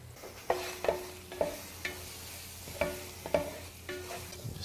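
Spoon scraping and stirring curry powder through frying food in a pan, with a series of sharp clinks and scrapes about every half second over a soft steady sizzle.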